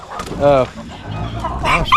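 Hens squabbling on a homestead let out loud, agitated clucks and squawks in several bursts, with someone speaking over part of the scuffle.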